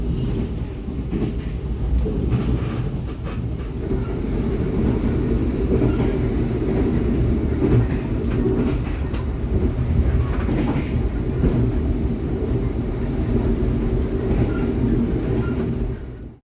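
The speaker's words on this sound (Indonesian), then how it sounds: "kereta api Jayakarta langsung tancap gas sampai dengan kecepatan maksimalnya ya, sekitar 97 km per jam" A Jayakarta passenger train running at about 97 km/h gives a continuous heavy rumble of wheels on rail, heard steadily from on board with faint clatter, and no voices.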